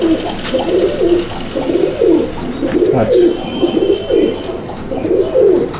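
Teddy pigeons in a loft at Betberia coo in soft, repeated, rolling phrases at close range, several birds overlapping in a steady rhythm.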